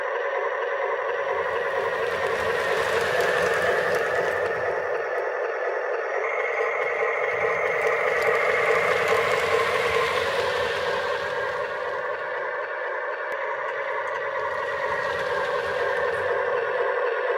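A Menards Union Pacific O gauge toy locomotive running, its motor giving a steady whine and hum that swells and eases in three spans as it shifts back and forth, with no speech.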